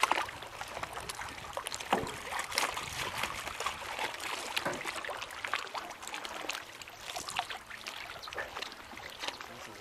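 Canoe paddle strokes splash and drip in Mono Lake, California, irregular watery swishes and trickles close by, with wind noise underneath.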